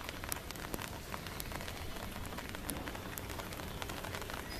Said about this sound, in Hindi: बूंदाबांदी हो रही है, ये देखिए